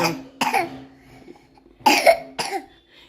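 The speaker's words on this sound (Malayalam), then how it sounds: "അത് ചുമയായിരുന്നു" Two pairs of sharp, throaty coughs ring out close by, with short quiet gaps between them.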